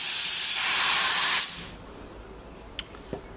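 A loud, steady hiss of a Fuji MPX-30 spray gun spraying sealer for about a second and a half, then it cuts off, followed by a couple of faint clicks.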